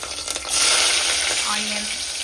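Fenugreek seeds, fennel seeds and green chilies hit hot oil for a fish kulambu, giving a loud, steady close-up sizzle that swells after a brief quieter start and keeps crackling to the end.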